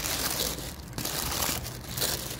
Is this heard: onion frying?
no